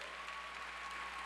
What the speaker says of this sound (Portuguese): aplauda forte.